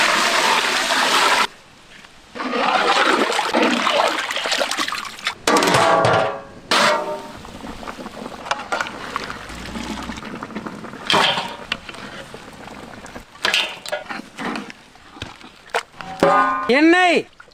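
Water goes into a pot of masala rabbit curry, giving loud close splashing and gushing that stops and starts, with sizzling and bubbling in between and a few other kitchen clatters.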